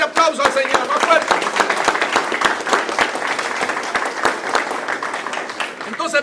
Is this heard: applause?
yes